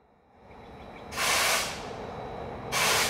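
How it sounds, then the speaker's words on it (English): An air exhaust gives two loud bursts of hissing air, the first longer, separated by a softer steady hiss, close and harsh. "And also an air exhaust."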